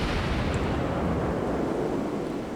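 Rumbling, rolling explosive noise as high-explosive shells from Cleveland cruisers pound a battleship in World of Warships, a dense continuous roar of impacts and blasts without pause.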